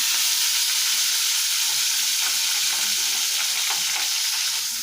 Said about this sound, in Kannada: ಕಡಿಪತ್ತ ಹಾಕಾದ್ಮೇಲೆ ಈಗ ನಾನು ಉಳ್ಳಾಗಡ್ಡೆ ಹಾಕ್ತೀನಿ